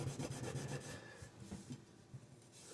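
A Scotch-Brite pad scrubs a dish in quick back-and-forth strokes, a faint, close rasping rub with a steady rhythm early on that grows looser and softer.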